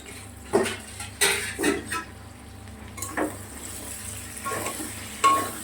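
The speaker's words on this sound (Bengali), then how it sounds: "মোটামুটি 5 মিনিটের মতন কষাবো।" Spice masala is stir-fried in oil for a katla fish curry with potato and cauliflower. A low background sizzle runs throughout, broken by several sharp scrapes and clinks of a spatula against the pot at uneven intervals.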